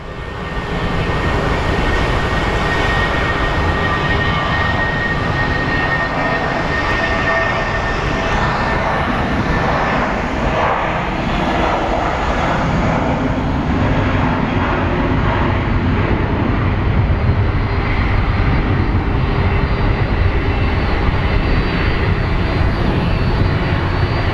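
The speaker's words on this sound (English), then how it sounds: "DHL 767. Getting ready to depart." A DHL cargo Boeing 767 wide-body readies for departure at Phoenix Sky Harbor International Airport, its jet engines producing a loud, continuous roar that swells gradually and stays dominant for the whole stretch.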